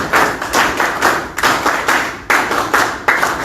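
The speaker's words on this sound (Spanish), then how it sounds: "Fuertes palmas para él." An audience at a talk on infrastructure in Peru applauds a speaker with loud, close rhythmic clapping that comes in pulsing surges and carries on steadily throughout, with no talking over it.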